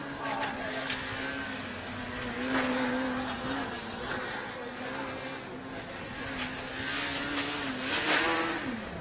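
A Formula SAE race car engine revs and pulls through an acceleration test on a loop course, its pitch rising and dipping over several passes, heard from a distance under a commentator's voice.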